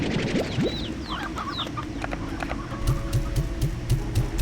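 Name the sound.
chickens clucking in video game Slime Rancher 2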